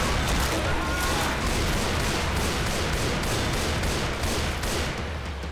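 A gun in Left 4 Dead 2 fires in a swamp setting, its shots landing one after another in a fairly regular beat within a thick, loud bed of continuous noise.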